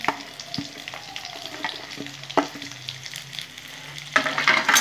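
Slit green chillies and onions fry in a pan for a North Bengal leafy greens dish, a close crackling sizzle with scattered spatula clicks and stirring, swelling louder near the end.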